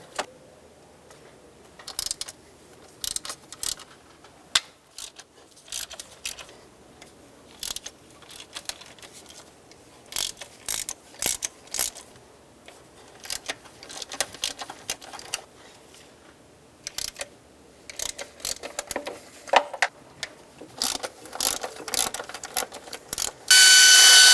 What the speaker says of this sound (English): then I'll grab my air ratchet and get them out the rest of the way.